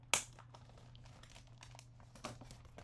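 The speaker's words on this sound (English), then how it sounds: "I'm going to put it in our plastic bag, close it around it." Plastic bag crinkling closed around a removed part during a figure joint repair, with a sharp initial rustle followed by faint scattered crinkles and a second burst near the end.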